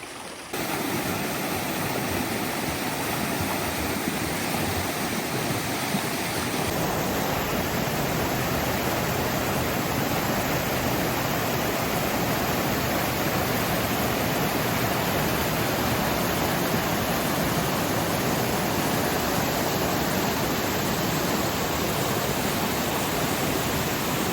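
Floodwater rushes down an Appalachian creek widened by recent flooding, a loud, steady broadband roar that holds unbroken throughout, close and continuous with no voices.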